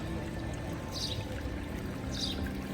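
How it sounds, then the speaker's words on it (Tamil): Water runs continuously along an artificial stream inside the UAE Pavilion at Expo 2020, a steady pouring gurgle with a couple of brighter splashing swells, no speech over it. "இதில் பாருங்கள் இவ்வளோ அழகாக ஒரு நீரோடை மாதிரி ஒன்று செட் பண்ணி வச்சுருக்குறாங்கன்னு பாருங்கள். அப்படியே தண்ணி ஃப்ளோ ஆகி வந்துட்டுருக்கு."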